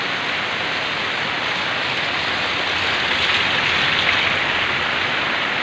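Heavy typhoon rain pours steadily over a flooded market, a dense, even hiss of water with no breaks and no voices.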